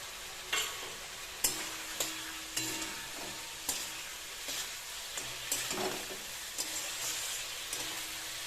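Fried cauliflower is stirred into sizzling masala for a rohu fish curry, with a steady frying hiss and repeated sharp scrapes and knocks of a spatula against the pan, close and fairly soft.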